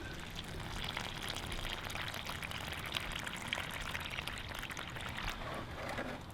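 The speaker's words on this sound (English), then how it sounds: "As soon as you can after planting, make sure you water it in well." Water poured onto a newly planted tubestock plant, a steady splashing stream lasting several seconds, close and moderately loud, with no talking over it.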